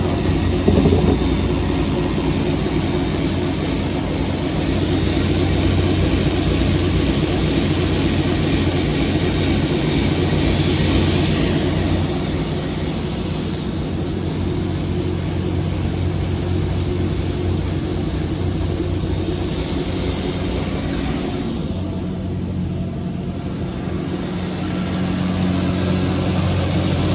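A DM1100C machine processes stainless steel machined parts, giving a loud continuous mechanical roar and whine that holds steady throughout with slight shifts in tone, no voices.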